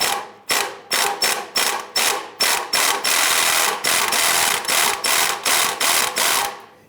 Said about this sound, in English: run our 15mm swivel socket and extension up between the exhaust and the oil pan in front of the starter and get that onto that rear bolt